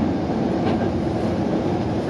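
A Hankyu Senri Line train rolls along its track in a steady, continuous rumble with faint clattering from the wheels, heard from the front cab with no one talking.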